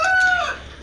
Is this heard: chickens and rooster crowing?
yes